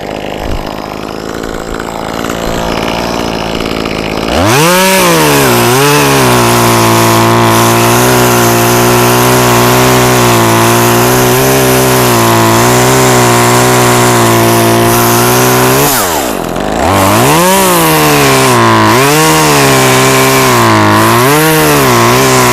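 A chainsaw cutting into a large walnut tree, starting up loudly after a few seconds and holding a steady, strained roar near by, dipping briefly in pitch mid-cut before revving back up.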